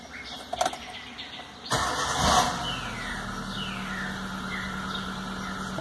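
A rebuilt Chrysler Stratus engine cranks briefly after a few clicks, catches with a rising rev, then settles into a steady, even idle close by with no talking.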